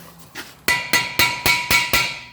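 Hammer hitting a stuck brake rotor on a 2008 Nissan Maxima during hub bearing replacement: seven sharp metallic strikes in a steady rhythm, close and loud, each ringing briefly.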